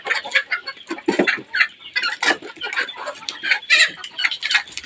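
Roosters and hens at a poultry farm clucking and squawking in an irregular, busy chorus, close by and moderately loud with no talking.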